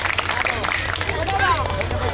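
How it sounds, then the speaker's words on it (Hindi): Audience at a stage-show opening event clapping to welcome an honoured guest: a crowd of scattered claps under murmuring voices, with someone talking through it at close range. "हम चाहेंगे कि आप लोग एक बार तालियों से इनका स्वागत करें"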